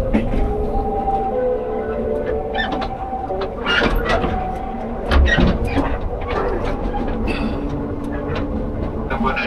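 Driverless Jakarta LRT train running, a steady rumble and rail noise throughout with brief tonal squeals and a louder thump midway, while an onboard announcement voice talks over it.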